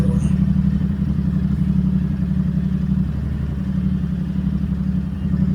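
A motorcycle engine idles steadily in a shed before a ride, a close, loud, low throbbing thrum with a faint mechanical clatter and no talk over it.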